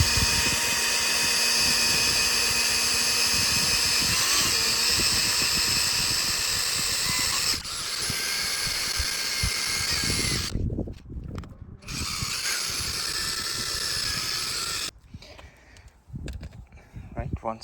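A car polisher buffs Meguiars Ultimate Compound on car paint, a steady whirring drone with a high whine that shifts pitch as speed changes, cutting out briefly near the end, with a voice talking over it.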